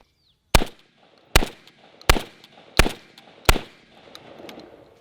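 Five loud, sharp shotgun blasts from a Hatsan Escort DF12 semi-auto, an AR-style 12-gauge, fired in steady succession less than a second apart, each with a short ringing decay, close by and outdoors.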